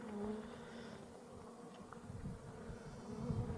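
Honeybees buzzing around a queen bee cage, a dense continuous hum from many insects close by, swelling and fading slightly, with faint handling noises.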